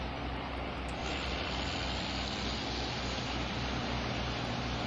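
A John Deere combine in Farming Simulator 2013 runs its engine with a loud, steady, broadband drone that holds evenly throughout, with no pauses or talk.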